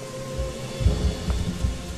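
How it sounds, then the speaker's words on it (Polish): Rain in the video game Gothic 3, steady patter with several low thudding rumbles, like thunder, rolling through the middle and no voices. "To najgorsze też, że pada"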